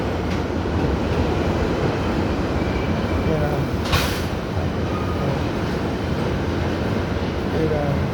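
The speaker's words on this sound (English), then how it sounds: "I'm on the train right now" A New York City subway train rumbles along with a steady, loud roar and rattle, a brief sharp squeal or hiss rising about halfway through.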